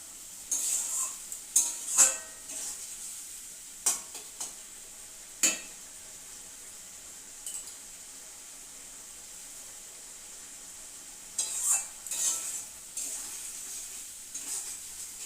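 Spices with garlic and green chili sautéing in oil in a pan before fish goes in: a soft, faint sizzle with scattered spoon scrapes and clinks against the pan, bunched in short bursts.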